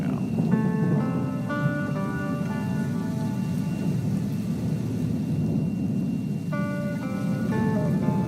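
Steady rain ambience plays as a continuous loud hiss with low rumble, while soft melodic music tones drift over it.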